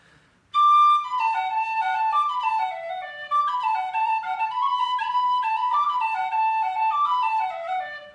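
A Tony Dixon aluminium tin whistle plays a lilting melody of quick stepping notes, clear and bright with a soft tone, alone and close.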